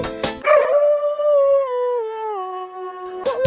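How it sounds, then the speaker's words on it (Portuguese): A single drawn-out dog howl, steady and wavering slightly in pitch, sliding gently downward over a few seconds, with brief noisy bursts at the start and end. "Late pra ração, cachorro solta aquele uivão."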